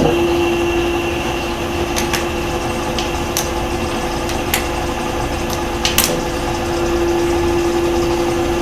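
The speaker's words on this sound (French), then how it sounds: "c'est parti pour le lamage" Milling machine making a spot-facing cut on a part from a dividing head being restored: a steady, loud mechanical hum with a constant tone and faint scattered ticks throughout, close by and without speech.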